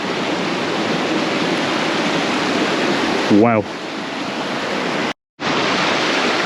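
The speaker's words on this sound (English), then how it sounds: "we're currently in the middle of a river" Fast whitewater rushes in a river, a loud, dense roar of churning water that fills the whole clip; a person briefly exclaims partway through, and the sound drops out for a moment near the end.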